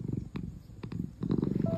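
A domestic cat purrs up close, a soft, steady rhythmic rumble heard on its own in a quiet room.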